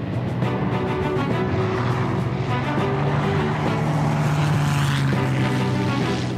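A Supermarine Spitfire's Rolls-Royce Merlin engine roars loud and close, a rich, powerful, continuous throb with a slowly rising and falling pitch and no voices.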